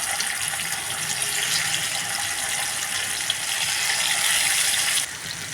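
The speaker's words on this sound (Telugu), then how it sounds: "నూనె వేడెక్కిన తర్వాత ఈ కాకరకాయ ముక్కలన్నీ నూనెలో వేసేయండి" Bitter gourd pieces fry in hot oil, giving a close, steady hissing sizzle that holds evenly and then drops slightly in intensity just before the end.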